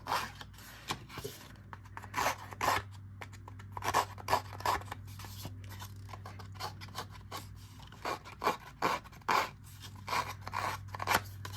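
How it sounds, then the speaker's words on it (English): Repeated short scraping, rasping strokes of a distressing blade tool roughing up cardstock edges, close up, in uneven bursts over a low steady hum. "It's got a blade in here, and so you can kind of rough up your edges."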